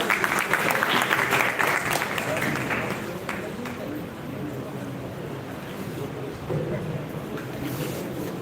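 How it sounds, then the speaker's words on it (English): An audience at an academic conference applauds a guest speaker, a dense, loud wash of clapping that swells for the first few seconds, then settles into a softer, steady roar with some wind-like rumble. "Please welcome Dr. Bhanu Pratap Singh with a huge round of applause"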